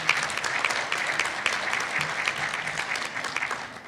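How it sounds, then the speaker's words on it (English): Applause from the audience at a nursing pinning ceremony, a full, steady patter of many hands clapping at once that stays even and sustained throughout, with faint crowd murmur beneath. "please give yourselves a round of applause for that"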